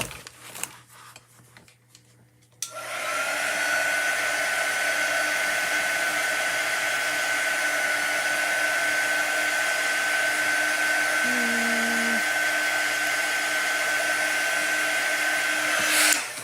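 A hair dryer runs for a chalk paste craft project, switching on after a couple of seconds of quiet and then blowing as a loud, steady whir held close to the microphone.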